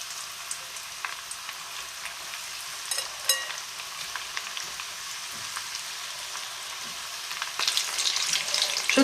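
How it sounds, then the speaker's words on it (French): Tofu cubes frying in very hot sunflower oil, a steady close crackling sizzle with scattered pops that swells louder near the end, with no one talking. "Et je vais y mettre mes cubes de tofu. Il faut que votre huile soit bouillante."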